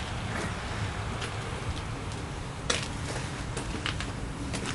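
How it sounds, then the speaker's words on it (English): Steady rain falls on a Sunday as an even, close hiss with scattered sharp drip-like ticks and one louder tap, continuing unbroken with no voices. "It's raining"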